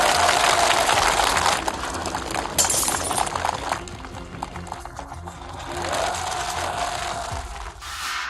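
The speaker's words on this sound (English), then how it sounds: "smashing bottles over your head" Glass bottles shatter loudly with a sharp crash, followed by clinking shards and a few more breaking impacts over a steady mechanical rumble.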